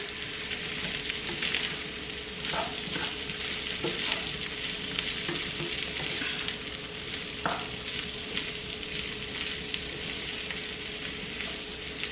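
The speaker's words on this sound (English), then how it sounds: "hopefully you can hear it actually frying" Steady sizzling of corn frying in hot oil, a continuous crackle close up, with occasional scrapes and clinks of stirring.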